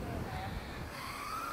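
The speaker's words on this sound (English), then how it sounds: "It is pretty windy, by the way," Steady wind roars outdoors against a microphone in a brief, faint burst of broadband rushing noise, with a small quadcopter's high motor whine rising faintly underneath.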